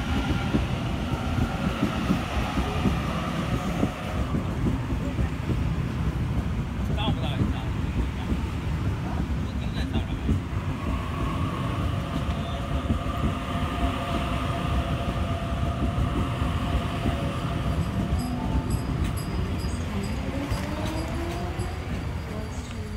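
Sydney Trains Waratah set running through Flemington station without stopping, a loud continuous rumble of wheels and carriages close by for the whole stretch.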